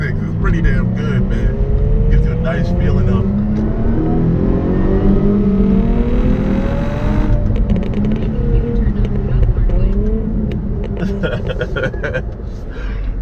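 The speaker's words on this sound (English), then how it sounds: "For a little V6, man, the sound is really good." A Jaguar F-Type with a V6 engine revs and pulls hard, its rising and falling engine note loud and close throughout, with a voice talking over it.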